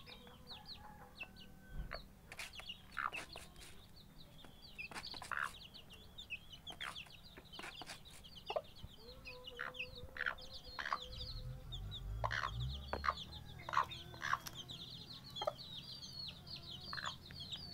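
Young village chicks, eighteen days old, peeping in a steady stream of high, thin chirps, several birds overlapping at close range, with a low rumble of background noise growing in the second half.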